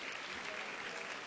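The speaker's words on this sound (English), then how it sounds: "Let's give him a warm round of applause." Summit audience applauding as an agroforestry speaker is welcomed, a soft, distant, even wash of clapping throughout.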